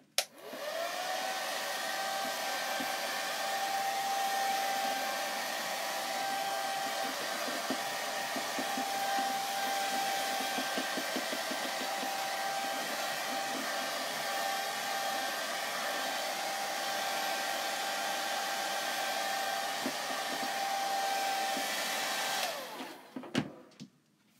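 A dryer blows steadily onto wet chalk craft paste, giving a loud, continuous whirring roar that runs unbroken for over twenty seconds and then cuts off. No voices are heard over it.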